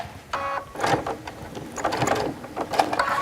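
A sewing machine stitching down a folded hem edge on a decorative hem band, running in short close bursts of rapid mechanical clatter with brief pauses between.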